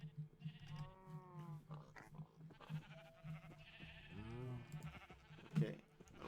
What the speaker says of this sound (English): I like that yellow sheep.